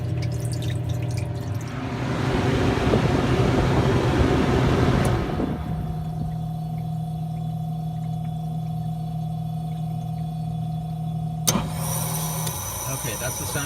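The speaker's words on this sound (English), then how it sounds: "that's the sound of the compressor reversing" Compressor of a Manitowoc QM 45A ice machine reversing for the harvest cycle, a steady mechanical hum and rushing water that shift abruptly to a lower, steadier drone, with a sharp click near the end.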